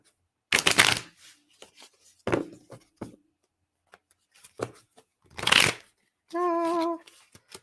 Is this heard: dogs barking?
no